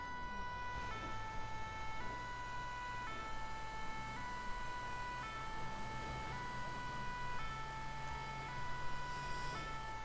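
A fire engine siren in the GTA 5 video game wails continuously in a steady two-tone pattern, loud and near, over a low engine drone.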